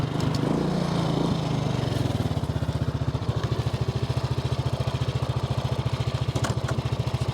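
A Honda Fourtrax 300 ATV engine comes down from a higher rev and settles into a close, loud, steady idle that runs a little high, with a fast, even chugging putter.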